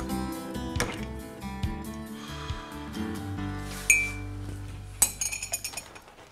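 A spoon stirring and clinking in a cup with sugar lumps, giving bright, close chinks against a ringing musical background, finishing in a quick run of rapid taps.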